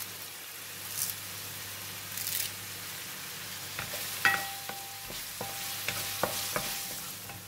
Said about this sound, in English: We stir fry until it releases a very nice fragrance.